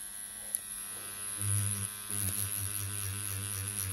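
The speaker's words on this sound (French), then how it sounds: "je pense que vous voyez une Ink Machine, la Scorpion, surtout la Scorpion, avec une cartouche" A Scorpion pen tattoo machine with a cartridge, running at 10.5 volts, gives a steady high electric buzz, close and fairly quiet, with no talking.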